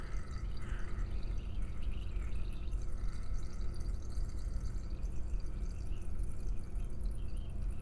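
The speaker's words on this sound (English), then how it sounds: "Now I can release this liquid that's been somewhat diluted by the water that was already in there. I'll release that into just a waste beaker." Diluted liquid drains from a glass burette into a waste beaker in a titration lab, making a faint, steady trickle with light drips under low room noise.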